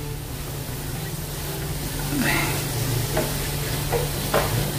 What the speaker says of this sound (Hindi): अभी अच्छे से और से मिक्स कर लेंगे